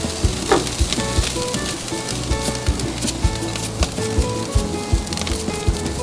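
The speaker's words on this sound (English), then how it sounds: "Make sure the burgers are nice and even on the grill." Burgers fry on a barbecue grill with a steady, close crackling sizzle, broken by a few sharp spatula taps and pops.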